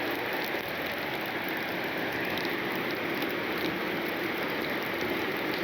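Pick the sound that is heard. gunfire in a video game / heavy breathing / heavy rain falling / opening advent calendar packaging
heavy rain falling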